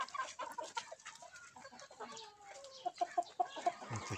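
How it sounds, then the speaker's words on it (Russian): Free-range hens cluck and murmur softly nearby, with a short run of rhythmic clucks toward the end and faint outdoor background. "Вот такие вот курочки бурковско-барвистые."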